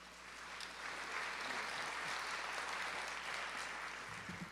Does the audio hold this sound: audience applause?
yes